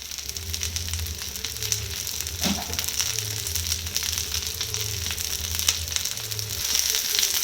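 Long-cut eggplant (brinjal) pieces sautéing in oil for oil brinjal kuzhambu make a steady, close sizzling hiss with light crackle, plus a low background hum running throughout.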